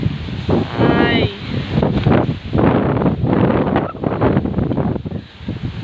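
Strong typhoon wind roars and buffets in loud, surging gusts, battering the microphone almost nonstop, with voices talking under the din.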